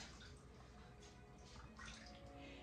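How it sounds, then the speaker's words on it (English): Water splashes and drips as a wet flour sack towel is wrung out in a kitchen, a steady close, moderately loud trickle with gurgling bursts and no talking. "I'm just gonna get it wet. And I'm gonna squeeze out the excess water."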